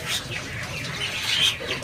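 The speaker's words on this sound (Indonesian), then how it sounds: "Ini ada burung bimoli jantan ya. Iya, itu udah rajin, Mas, itu." A male bimoli songbird chirps at a bustling bird market, short bright calls rising over a busy, noisy background.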